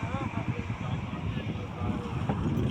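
Strong wind at the beach in Puri at sunset batters the microphone with a loud, continuous low roar and gusty rumble. It stays close and steady for the whole stretch, with voices mixed in.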